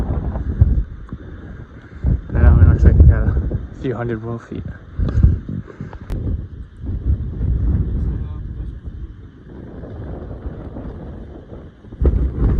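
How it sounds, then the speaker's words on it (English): Gusty wind buffets the microphone near the top of Killington mountain, rising and falling in rough bursts while someone talks intermittently over it. "Very windy up here."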